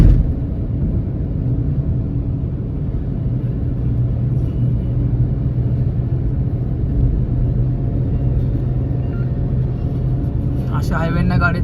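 A Nissan Magnite cruises on a highway, its cabin filled with a steady low engine and road rumble that holds even throughout, ending with a faint rattle.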